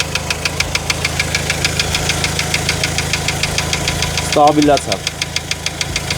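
A hydrogen-fuelled car engine idles with a steady, rapid knocking rhythm close by, briefly changing tone as an adjustment is made near the motor, while a person talks over it.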